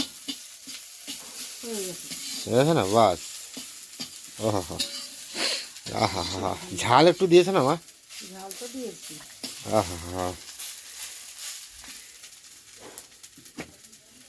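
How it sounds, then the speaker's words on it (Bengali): Sattu (gram flour) roasting in a pan while being stirred, a soft dry scraping and sizzle that runs steadily beneath frequent conversational voices. "সুন্দর সুন্দর লাল লাল করে ছাতু ভাজা হয়ে গেছে"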